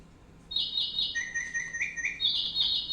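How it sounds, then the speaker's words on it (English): Bird-sound ringtone on an intelligent doorbell: bright, repeated electronic chirps and whistled trills start after a brief silence and continue in a steady pattern, clear and close. "Bird Sound."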